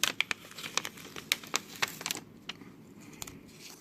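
Painter's tape being handled and torn while wiring drone motor electronics, heard as close, crisp crinkles and sharp tearing snaps that come thickly at first, then thin out to a few soft rustles.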